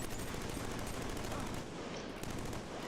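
Rapid automatic gunfire from a gun in Killzone 3, a dense rattling stream of shots loud and continuous for about three seconds.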